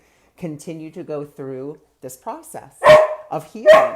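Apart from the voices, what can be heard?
dog barking, wanting to go outside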